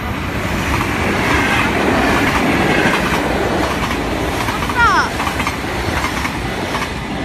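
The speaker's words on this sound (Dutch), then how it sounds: "Kom rechts een trein." A train rolls past on a railway track near Nieuwstadt, a loud, steady rumble with clattering wheels and a brief squeal of wheels midway, heard close by.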